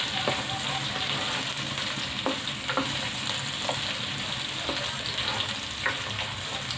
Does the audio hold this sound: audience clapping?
no